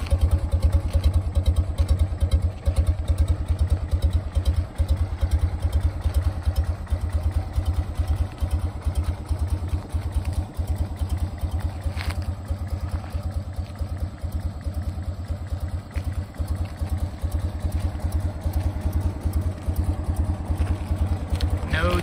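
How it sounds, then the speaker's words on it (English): A 1967 BMW R69S motorcycle engine, cold, idling steadily and close, with an even low throb and light mechanical clatter running throughout. "Bike is pretty cold actually, so holding a nice idle."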